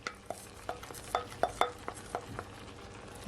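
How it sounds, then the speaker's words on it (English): Stirring Jamaican red pepper shrimp in a pot, a series of light, irregular clinks and scrapes of a utensil against the pot over a faint sizzle, close and fairly quiet. "Give it a stir."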